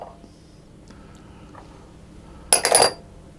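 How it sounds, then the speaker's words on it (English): Flour, salt, sugar and baking powder tipped into a mixing bowl for cheesy scones make one short, bright clatter with a clink near the end, after a quiet pause. "So I'm going to put my flour in, and then the salt, the sugar and the baking powder."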